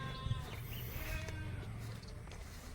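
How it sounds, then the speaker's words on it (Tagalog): Goats bleating repeatedly on a rainy day while penned in, several overlapping cries at close to moderate distance over a steady background of rain or ambient noise. "nag-iiyakan natin mga kambing"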